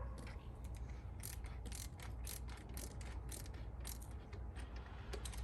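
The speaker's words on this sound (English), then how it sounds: "I'm gonna have to use the flathead to tighten it back really tight." A flathead screwdriver tightens the plastic fitting of a pond UV light in quiet ratcheting, creaking clicks that repeat irregularly over low background noise.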